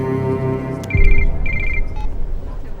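A mobile phone rings in a dramatic movie scene, giving short repeated bursts of a bright electronic trill right after a low thump, with background score underneath.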